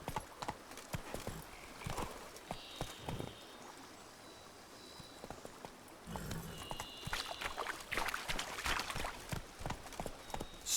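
Steady clip-clop of Roach's hooves in The Witcher 3, the horse trotting at a regular pace over ground, fairly close, with water and ambient game sounds in the background.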